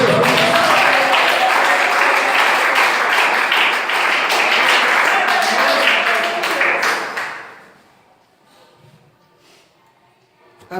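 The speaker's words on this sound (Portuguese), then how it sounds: "Dê uma salva de palmas para o Senhor Jesus." A church congregation breaks into loud, dense applause with cheering, sustained for about seven seconds before fading abruptly to near silence.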